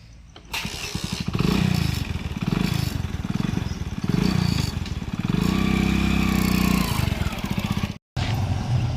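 A motorcycle engine starts up and runs, rumbling loud and close for several seconds as the bike pulls away, with a brief cutout near the end.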